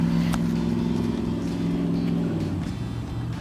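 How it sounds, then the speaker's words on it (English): A truck drives past on a road beside a garden, its engine a low, steady rumble that fades gradually. The sound stays moderately loud and close, with no voices. "We'll let that truck go by."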